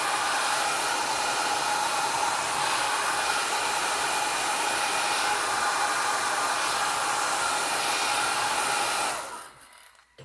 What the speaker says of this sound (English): Okay, and then we'll bring in the dryer.